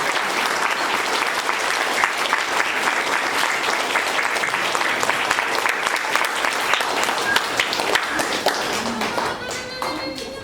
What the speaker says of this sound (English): All right, let's clap for our first row.